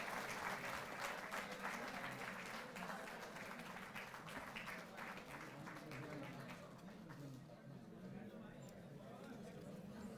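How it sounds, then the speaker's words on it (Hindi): Applause at a felicitation ceremony for Asian Games medal winners: sustained, dense clapping from a large audience, gradually thinning toward the end, with murmured chatter and voices underneath. "तालियां बजती रहें लगातार"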